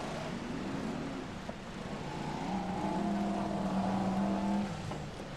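BriSCA F1 stock cars race at Long Eaton in 1994, their engines roaring steadily and mid-distance, with rising and falling revs as the pack circles the oval and a louder surge from nearer cars toward the end.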